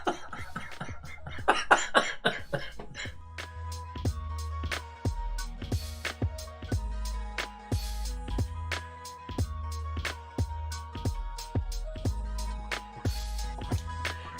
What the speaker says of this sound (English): that got me into a coughing fit then